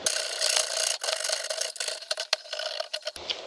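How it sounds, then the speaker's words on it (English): A hand file rasps back and forth on metal, tapering the sides of a part for a grommet seat on a 2022 Harley-Davidson FLHXS breather bypass; loud, close, continuous strokes with brief pauses. "I'm going to go ahead and take a file and taper the sides on both sides"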